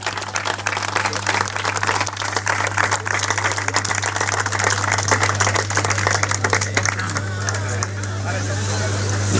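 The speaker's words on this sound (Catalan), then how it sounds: "anem a donar-li a esta sirena que ha vengut per així un fort aplaudiment" An audience at a Castell de l'Olla festival presentation claps in strong, sustained applause, dense and continuous with crowd noise throughout.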